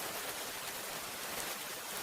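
Rain falling on a hut at night, a dense, even hiss of close steady downpour with no breaks, alone and unchanging throughout.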